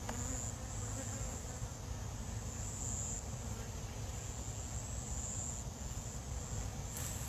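Dense, steady buzzing of many honey bees around a hive close by, a continuous droning hum with no breaks.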